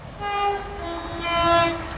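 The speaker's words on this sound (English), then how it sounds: "the train to pass by is going to be a Great Western Railway 387 from Reading to London Paddington. Bouncing over the junction, as per the norm." A Great Western Railway Class 387 electric train from Reading to London Paddington passes over a junction, giving a loud, close, sustained tonal whine that swells twice over a rumbling low roar.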